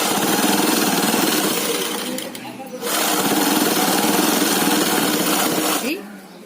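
A sewing machine stitches two layers of cloth for a face mask, a loud, fast whirring drone that runs steadily, halts briefly, then resumes before stopping near the end.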